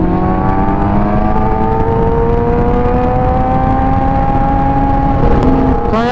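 A Kawasaki ZX-10R 1000cc sportbike pulls hard in first gear on an expressway, its engine climbing steadily in pitch, loud and close, over rushing wind with a brief shift near the end.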